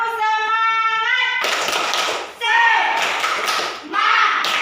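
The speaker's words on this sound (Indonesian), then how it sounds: "Tepuk semangat dulu. Tepuk semangat." A fourth-grade class claps out the tepuk semangat chant in a classroom, a sung children's tone giving way to loud, dense bursts of many hands clapping in rhythmic groups.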